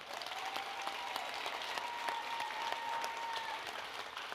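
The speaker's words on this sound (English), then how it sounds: "We should all clap for that." An audience claps at a school district State of the District event, a soft, distant, steady applause over a faint tone, lasting a few seconds.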